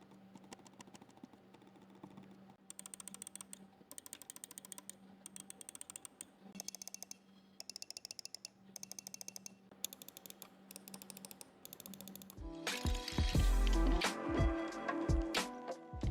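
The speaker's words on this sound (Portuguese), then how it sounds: "a gente vai ouvir o som do clique do Super Strike comparado com os outros mouses que a gente tem aqui" A Logitech G Pro X2 Superstrike gaming mouse and several other mice click in turn, bursts of sharp, close clicks separated by short pauses, then a louder, busier stretch of clatter near the end.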